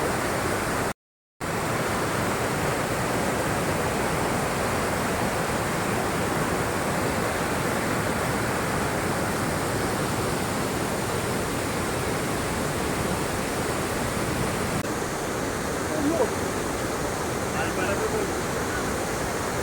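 Kapra waterfall on the Athirapally–Valparai route roars in a dense, unbroken rush of falling water that fills the whole scene, loud and close, with faint voices barely rising above it.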